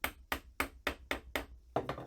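A chisel is tapped with even, light blows to chop down the sidewall of a wood joint for a desk cabinet, giving seven close, sharp knocks at a steady pace with no talking.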